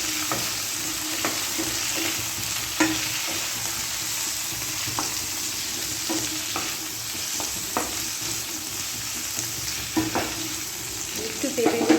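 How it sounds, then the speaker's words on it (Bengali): Papaya pieces stirred with cumin in a frying pan, a steady sizzle with repeated scraping strokes of a spatula at an even rhythm, close and moderately loud, no voices. "পেঁপেগুলোকে একটু ভালো করে নাড়ানাড়ি করে নেবো।"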